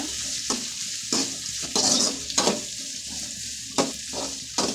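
Onions sauté in a pan for fish curry, a steady close sizzle broken by several louder bursts of spoon stirring, with no talking.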